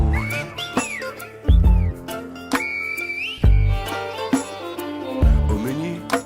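A person whistles between two cloud-capped mountains, a series of rising and falling whistled phrases with strong low thumps and booming accompaniment beneath, fairly loud and close.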